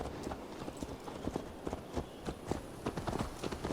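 Horse hooves clip-clop at a steady walking pace on hard ground in Assassin's Creed Valhalla, a string of close, distinct hoofbeats over a low ambient bed with no talk.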